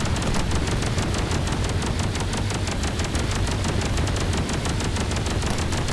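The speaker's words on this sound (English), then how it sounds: "And it is still firing back at us." An enemy ship in the game Space Engineers fires relentlessly: a loud, continuous hail of rapid automatic shots with a heavy low rumble and no pause, unbroken for the whole stretch.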